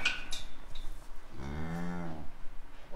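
A cow on a farm gives one clear, fairly faint moo lasting about half a second, with other quiet scattered sounds around it.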